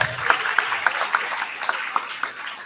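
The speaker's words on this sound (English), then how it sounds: "let's give them another round of applause" A crowd at a graduation and promotion day ceremony claps steadily in a brief round of applause, with a few individual claps standing out close by.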